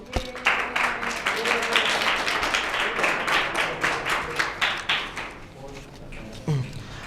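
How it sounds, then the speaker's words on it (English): Students in an English reading class applaud together, a burst of steady group clapping that swells and holds for several seconds, then thins out as the room quiets and a voice starts speaking. "Give a applause for you all."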